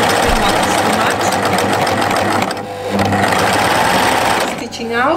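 A sewing machine stitches knit fabric for a jumpsuit, running in a steady fast rattle close by, pausing briefly midway and again near the end, with a voice talking over it.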